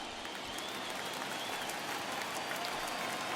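Stadium crowd cheering and applauding in MLB 21, a Red Sox vs Yankees ALCS game, crowd of over 39,000 on their feet: a steady, dense roar of cheering that holds at even loudness throughout, with no clear talk over it.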